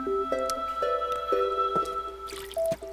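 Watering plants with a watering can in the video game Plants vs. Zombies: a series of short tonal chimes and liquid blips, each a bright plinking tone followed by a brief splashy wash near the end, all close and clear with no talking.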